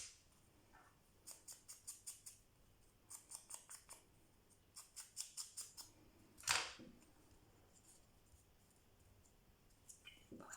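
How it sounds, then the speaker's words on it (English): Scissors snip the corners off a small handmade paper tag in quick bursts of sharp, close, fairly quiet cuts. One louder crisp snap lands in the middle, and there is no talking. "I'll cut those corners straight this time."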